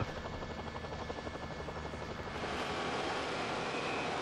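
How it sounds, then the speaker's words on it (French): A helicopter's steady rotor drone over a Tour de Suisse cycling race, fairly loud and continuous, swelling slightly louder partway through. "C'est peut-être plus prudent de filmer effectivement Damiano Cunego avec l'hélicoptère"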